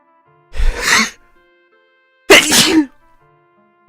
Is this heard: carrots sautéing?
no